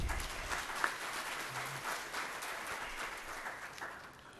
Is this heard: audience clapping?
yes